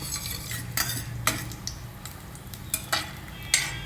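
Chopped cashew nuts frying in ghee in a pressure pan, a steady low sizzle with a few sharp clinks of a spoon stirring against the metal pan, close and alone.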